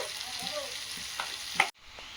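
Chicken and vegetables are stir-fried in a pan, giving a soft steady sizzle with gentle stirring scrapes, then a sudden cut to quieter background.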